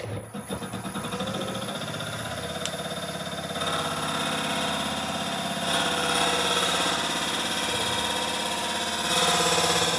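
A machine lathe in a turning workshop starts up and runs steadily, a continuous motor hum and mechanical whine with faint vibration that swells slightly louder toward the end, with no voices.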